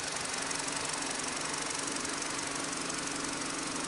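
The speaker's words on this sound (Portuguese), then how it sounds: "O carro já funcionando aqui" BMW 118i engine running steadily after a radiator replacement, a loud, continuous mechanical hum and rattle close by with no talk over it.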